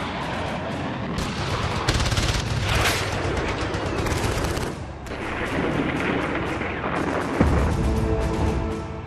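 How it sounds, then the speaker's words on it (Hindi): Heavy artillery shelling and gunfire from the Battle of Garibpur between India and Pakistan: dense, continuous rumbling blasts and rattling bursts, loud and sustained throughout without speech. "पाकिस्तान की ओर से एक बार फिर भयानक गोलाबारी होने"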